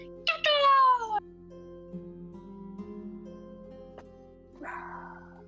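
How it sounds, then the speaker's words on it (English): A cat gives a loud, close, falling meow, then a softer second meow a few seconds later over a steady low hum. "that's a cat."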